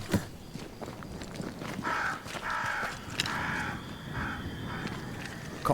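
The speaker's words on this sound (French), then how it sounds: "Corbeau indestructible." Crows caw repeatedly in Banishers: Ghosts of New Eden, harsh calls spread across several seconds over a busy background of footsteps and game ambience.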